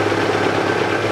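Knocking from worn bearings in the manual gearbox of a Chevrolet Lanos, heard as a loud, steady mechanical hum and rattle with the engine running, close up and without talk.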